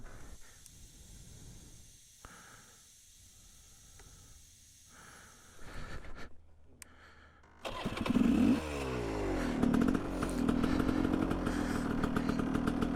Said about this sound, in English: You also hear my bike is starting right up.